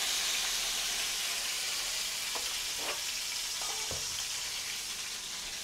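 Mutton pulao sizzles in a pan as fresh mint is mixed in, a loud steady frying hiss with a few brief spoon scrapes and clinks midway and no voices.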